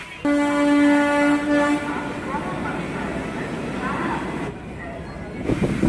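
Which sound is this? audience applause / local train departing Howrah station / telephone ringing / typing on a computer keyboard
local train departing Howrah station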